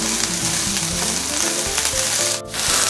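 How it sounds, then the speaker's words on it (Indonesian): Thinly sliced shallots and garlic sizzle steadily in hot oil in a pan, a loud, close, continuous frying hiss with occasional stirring clatter and no talking. "Saya masukkan bawang merah yang sudah diiris tipis juga. Ditumis-tumis semuanya sampai mengeluarkan aroma yang harum dari bawang merahnya ya."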